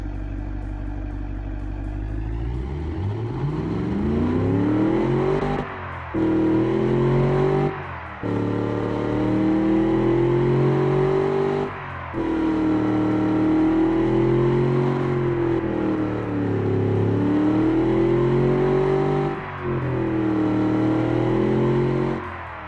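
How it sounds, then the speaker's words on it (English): A Ford Crown Victoria 4.6L V8 with modified exhaust runs with a deep, throaty idle, rising in one long rev and then falling through several blips and dips. It stands alone and close, with no voices. "it sounds better now, even at idle. Now it sounds like a V8."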